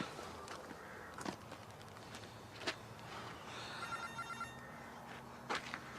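A telephone rings faintly in the distance, its electronic trill half buried under room noise, scattered footsteps and soft knocks.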